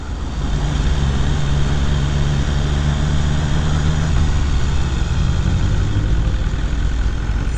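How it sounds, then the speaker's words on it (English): A 2017 BMW S 1000 R motorcycle engine runs with a nearly silent exhaust, making a loud continuous mechanical roar with a steady low hum that shifts slightly partway through, close and with no talking. "that noise you can hear is coming directly from the engine."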